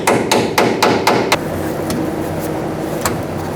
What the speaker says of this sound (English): I'm going to hammer it on.